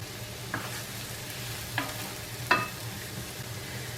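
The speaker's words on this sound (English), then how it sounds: "Then I will add my mushrooms so that I can saute them." Mushrooms sautéing in olive oil in a pan make a steady close sizzle, broken by three brief scraping stirs from a utensil, with no voices.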